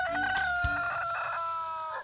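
A rooster crows close and loud, one long drawn-out call held for about two seconds with a brief cluck-like burst in the middle.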